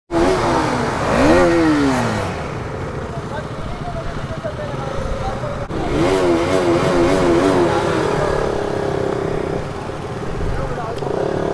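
Several KTM Duke motorcycle engines rumble and rev nearby on a group ride, rising and falling in pitch as bikes pull away, with people talking over the noise.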